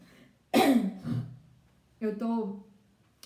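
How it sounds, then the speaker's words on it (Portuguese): Two separate coughs from a woman with rhinitis and sinusitis ring out close by, the first harsher and louder, the second shorter, with quiet between them. "Tia tá tossindo porque eu tô com muita rinite e sinusite"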